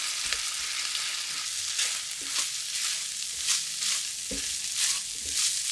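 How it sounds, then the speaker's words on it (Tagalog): Siomai rice with corn and tuna sautéing in a pan, with a continuous quiet sizzle and repeated soft scraping strokes as the mixture is stirred, close up with no voices. "Bale, igigisa lang natin to ng ilang minuto"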